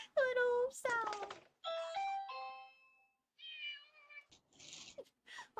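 A person imitates a cat with a few high, tonal meow-like cries, close and clear, separated by short pauses and mixed with brief voiced sounds.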